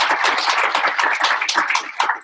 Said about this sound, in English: Ladies and gentlemen, I'd like to give a great round of applause to Carlo Lori.